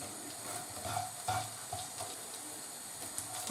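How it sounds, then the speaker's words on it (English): Caraway seeds roasting in a dry pan for beef goulash, a soft continuous crackling sizzle with faint stirring scrapes, close and fairly quiet, with no talking. "So give it a good roasting. This will release the flavours of the caraway seeds."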